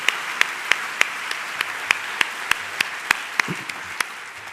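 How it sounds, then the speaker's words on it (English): Audience applause at a CSULB university convocation ceremony in 2014, with a broad wash of hands and sharp, evenly spaced louder claps cutting through, steady and fairly close for several seconds. "Please join me in a round of applause to recognize the faculty and staff in these departments for their exemplary efforts"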